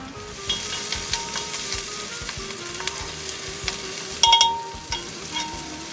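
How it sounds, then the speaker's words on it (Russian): Bell peppers sizzle and stew in a pan with a steady, moderate frying hiss and crackle, broken by occasional utensil clinks and a sharp clatter near the end. "Даем перчику хотя бы 3 минутки потушиться."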